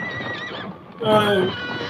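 A horse in a 1963 film neighs in a long, wavering whinny, then rises into a louder, nearer burst amid faint hoof clops, with voices talking underneath.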